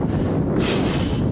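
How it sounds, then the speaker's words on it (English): Wind buffets the microphone in steady, loud low-frequency rumbling and gusts at an old bunker site in Uxbridge, swelling slightly midway with no voices. "here we go again with the wind."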